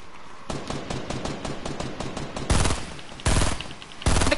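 Rapid automatic gunfire from a Fortnite match, with sustained bursts of machine-gun fire and several louder, closer volleys cutting in near the end, no talking.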